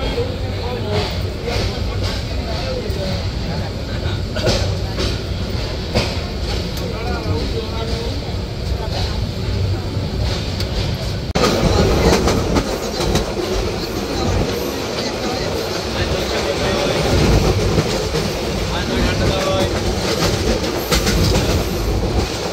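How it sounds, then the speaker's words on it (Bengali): The Mohanagar Express pulls out of Dhaka Airport railway station, heard from on board as a loud, continuous rolling rumble with rhythmic clickety-clack of wheels over rail joints. A voice speaks over the noise. "ট্রেনটি ছেড়ে যাচ্ছে ঢাকা বিমানবন্দর রেলওয়ে স্টেশন।"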